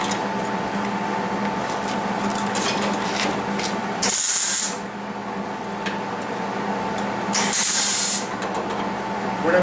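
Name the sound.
welding the quarter panel of a Ford Fairlane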